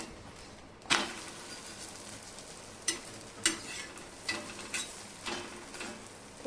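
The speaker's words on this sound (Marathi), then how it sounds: "आता हिला सुद्धा आपण पलटी करून घ्यायची आणि दुसरी बाजू पण आपण ही छान भाजून घ्यायची" Puran poli roasts on a hot griddle with a faint, steady sizzle, broken by a handful of sharp ticks and scrapes as it is turned.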